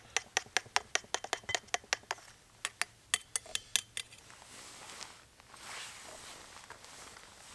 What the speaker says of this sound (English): So give that a little stir.